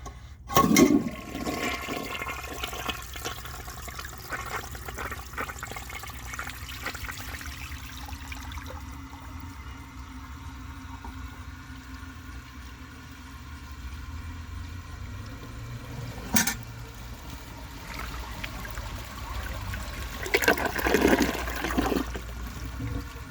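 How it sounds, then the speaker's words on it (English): A clogged 1953 AllianceWare toilet flushes in one long, close rush of water that settles into a steady swirl and trickle, then surges again near the end, with no voices. "It's clogged, but I'm going to flush it a second time and see if it can take that by itself."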